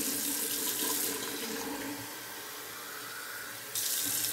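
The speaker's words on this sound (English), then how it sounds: "I'm going to run some more water in my bowl." Water runs from a tap into a shaving bowl in a steady broadband rush, easing midway and then returning louder near the end, close and alone with no talk.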